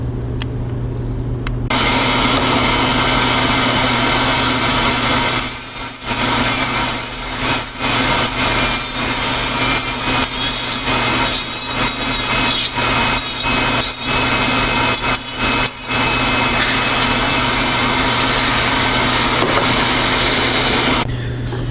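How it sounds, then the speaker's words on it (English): Slow-speed dental handpiece running a football burr across an acrylic denture base, a steady close high whine with grinding rasp that dips and resumes in short bursts for about twenty seconds, no talking. "take football burr on a slow speed and just round everything off"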